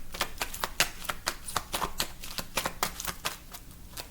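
Rapid riffling of a deck of cards being shuffled, close up, with repeated crisp bursts in a steady rhythm and no talking.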